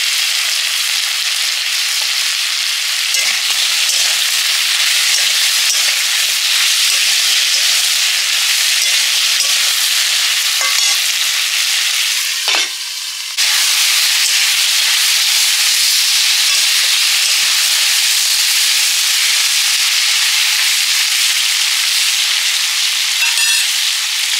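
Bhetki fish curry with sholakochu cooks in a covered pan, giving a continuous bright frying hiss and steamy sizzle for the whole stretch, with a brief clatter partway through.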